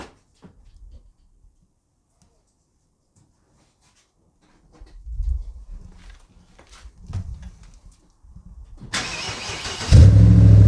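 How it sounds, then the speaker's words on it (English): A BMW E60 5 Series is started after an IVM module install: quiet clicks and rustles, then a starter crank and the engine firing into a loud, steady idle near the end. "Start your car and test it."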